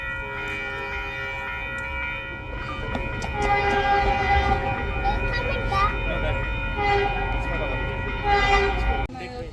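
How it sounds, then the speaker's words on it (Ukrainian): A train passes on the far track in a busy station, its wheels and cars rumbling steadily and a horn tone holding throughout, with a voice speaking lightly over it. "А, вон потяг з того боку, то не наш."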